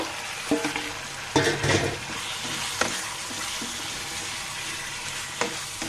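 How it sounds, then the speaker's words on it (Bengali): Fried pointed gourd and potato are stirred through a sizzling spice masala, with a continuous frying hiss broken by repeated spoon scrapes and knocks against the pan, close and fairly loud, no talking. "ভালো মতো নেড়ে দিব"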